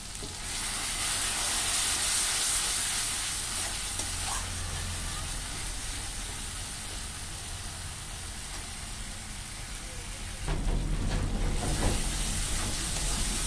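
Spice paste with octopus frying in a pan sizzles steadily, then a burst of louder hissing and spitting erupts as a splash of water hits the hot oil near the end.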